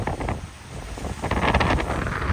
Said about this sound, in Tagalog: Dahil sa bagyong Bibingka kaya mahangin masyado. Tingnan nyo, sobrang hangin.